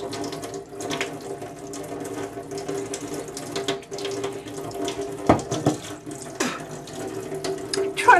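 Tap water runs in a steady, unbroken stream, probably filling a glass, for the whole stretch. The rush stays moderately close with small splashy fluctuations and no voices.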